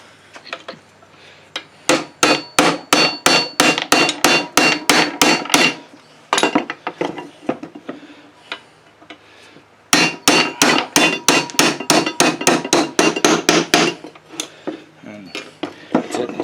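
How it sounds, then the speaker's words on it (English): Rapid metallic hammer strikes ring out in two long bursts separated by a pause, driving a roll pin out of a pre-1980 International Cub Cadet drive clutch with quick repeated blows. "So grab my hammer here and my roll pin."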